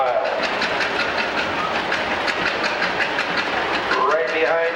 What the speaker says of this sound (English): Next tractor to come across is a 1955 John Deere 70.